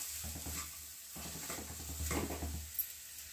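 A potato filling with coriander leaves being mixed in a pan, soft scraping and stirring in two quiet bursts with a brief pause between, heard alone.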